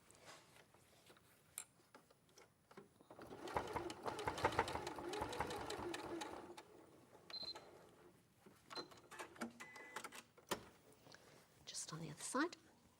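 A sewing machine stitches bag panels, with a rapid mechanical whirring burst in the middle followed by shorter runs and ticks, beside quiet talking.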